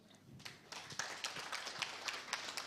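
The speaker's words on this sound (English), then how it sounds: "Can you welcome him with a clap?" An audience at a national climate outlook forum claps to welcome the director, a quiet, fairly distant patter of scattered hand claps building into steady applause over a few seconds.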